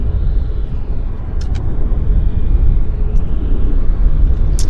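A WestJet airliner bound for Puerto Vallarta rumbles at Vancouver airport, a loud, steady low engine drone with no pauses.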